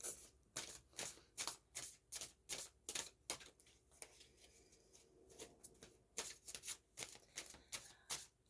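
Oversized tarot cards shuffled awkwardly by hand, a steady run of crisp riffling slaps and soft sliding rustles repeating about twice a second, close and fairly quiet, with no talking.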